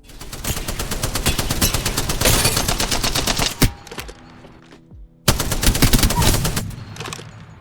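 The Spitfire machine gun in a video game fires loud, rapid sustained bursts, stopping for a short gap of quieter clatter and then resuming with another fast stream of shots.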